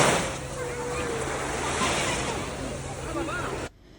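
Sea waves wash at a beach in a continuous loud roar with wind buffeting the microphone, then cut off abruptly near the end.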